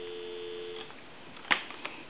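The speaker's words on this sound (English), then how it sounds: "Give you some dial tone." Dial tone from an old Kermit the Frog novelty telephone, a faint steady tone that fades out partway through, followed by a few clicks and a sharp knock from handling the receiver.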